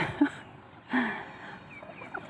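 A tame red junglefowl clucks near a house fence, giving two short, fairly loud clucks about a second apart, followed by quieter soft calls against a calm outdoor background.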